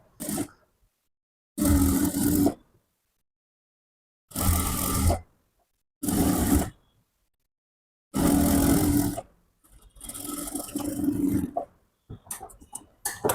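Sewing machine stitching palazzo pants, loud close bursts of rapid whirring run in several separate spells with silent gaps between them.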